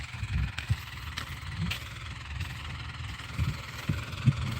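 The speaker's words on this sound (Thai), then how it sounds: "ขับรถไถนะครับ" A tractor engine idles quietly at a low, uneven chug, with a few soft knocks and bumps standing out over the steady rumble and no talking.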